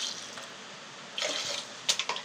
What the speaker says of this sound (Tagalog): Lagyan na natin siya ng tubig.